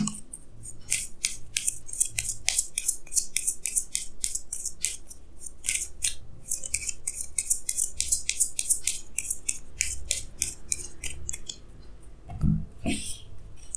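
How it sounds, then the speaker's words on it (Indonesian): Tarot cards being shuffled and drawn by hand, producing a continuous run of crisp snapping and riffling card clicks, close and fairly loud, with no talking. "saya akan tarik lagi 2 kartu tambahan"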